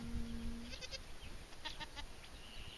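A mother goat near her kid gives a single close, drawn-out bleat, followed by faint rustling and soft ticking sounds in a quiet setting.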